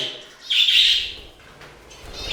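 Pet budgies and finches in an indoor bird room give a brief, clear burst of high chirping over a quiet background.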